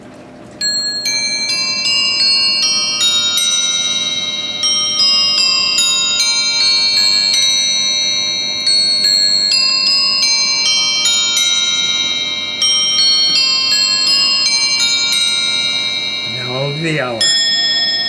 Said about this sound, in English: This is a bell chime movement. It plays on all these bells.